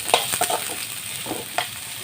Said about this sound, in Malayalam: ഇനി ഇഞ്ചി ഒരുമാതിരി ഇതായി കഴിയുമ്പോൾ ഉള്ളി പച്ചമുളക് വരണം. നല്ലതായിട്ടൊന്ന് വഴറ്റിയിട്ട്